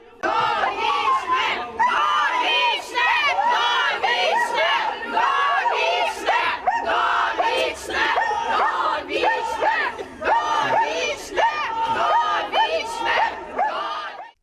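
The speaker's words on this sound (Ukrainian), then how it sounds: "Проводжають Зінченка до СІЗО вже традиційно під вигуки довічно з одного боку та волю з іншого." Outside a courthouse, a crowd shouts loud, overlapping chants as Viacheslav Zinchenko, accused of murdering linguist Iryna Farion, is led to detention. One side calls for a life sentence and the other for freedom, in dense, continuous cries throughout.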